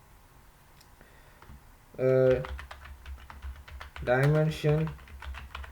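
Fingers typing code on a computer keyboard, a run of quick light clicks and taps going on steadily under a voice speaking intermittently.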